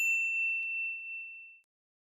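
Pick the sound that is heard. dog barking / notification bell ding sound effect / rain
notification bell ding sound effect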